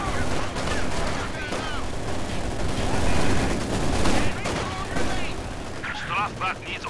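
Heavy machine gun fire in Company of Heroes 2 on the Soviet side, loud sustained bursts mixed with other battle gunfire and booms, with brief voice callouts in the din.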